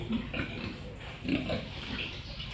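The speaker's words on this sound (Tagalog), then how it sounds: "Ito guys, oh, ang kanyang mga baboy." Pigs grunting in a pen on a pig farm, a steady run of low snorts and grunts with no pause, fairly close and moderately loud over a continuous background murmur.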